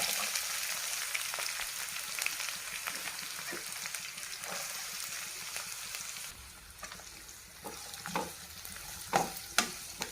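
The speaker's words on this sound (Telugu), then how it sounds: "పచ్చిమిర్చి తరుగు వేస్తాను. ఇందులోకి ఉల్లి తరుగు," Chopped green chilies and onions fry in a non-stick pan, giving a continuous sizzle broken by scraping stirs; the hiss thins partway through, then sharper stirring scrapes and pops stand out near the end.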